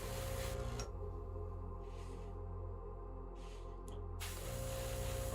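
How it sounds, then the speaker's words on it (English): An airbrush sprays paint onto a miniature figure in short hissing bursts, with quiet pauses between them and a steady background hum. "Oh, I may have oversprayed that slightly."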